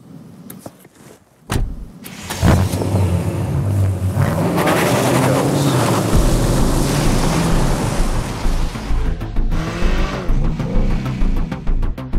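A 2018 BMW 8 Series Coupé with a 4.4-litre twin-turbo V8 petrol engine starts up and drives off, a loud continuous engine roar building and surging after a brief quiet start, no talk.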